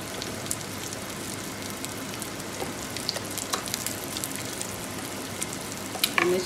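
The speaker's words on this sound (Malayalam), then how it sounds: "നന്നായി ഇളക്കി കൊടുക്കുക" Masala with lemon juice and garam masala powder fries in a pan for king fish biryani, giving a continuous crackling sizzle with occasional stirring scrapes, loud and close, with no talking.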